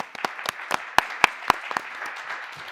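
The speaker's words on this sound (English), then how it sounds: "Emily, and a round of applause for her" A small audience at a scientific conference's oral session gives brief, sparse applause after a presentation, with scattered individual claps standing out rather than a dense roar.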